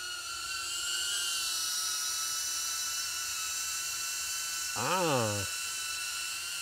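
A HoverAir X1 ProMax drone hovers with a steady high-pitched whine, then a brief louder sweep as it passes overhead outdoors; no talk is heard.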